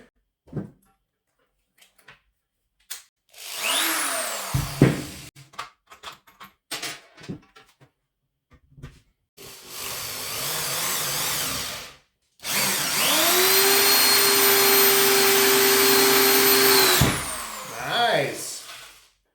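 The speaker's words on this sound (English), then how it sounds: "Now let's test screwing." A Parkside PNS 300 B3 two-speed drill screwdriver drives screws in several bursts of whirring motor, the longest run steady for about five seconds, with clicks and handling noises between, close and loud.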